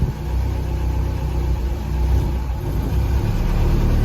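Engine of an M151 A2 military jeep running steadily while the vehicle backs out, a continuous low mid-pitched rumble close by with slight rises in revs and no talking.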